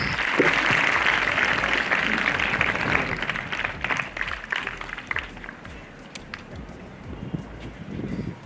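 A school investiture ceremony crowd gives a round of applause for the new house captains, loud clapping at first that thins into scattered claps toward the end.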